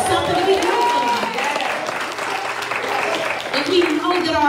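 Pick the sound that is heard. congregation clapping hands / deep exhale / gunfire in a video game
congregation clapping hands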